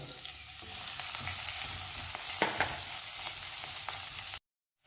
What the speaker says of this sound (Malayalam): സവാള ആദ്യം തന്നെ ഇട്ട് കൊടുക്കാം ഈ സവാള ഇട്ട് എടുത്ത് ഒന്ന് വഴണ്ടി വരട്ടെ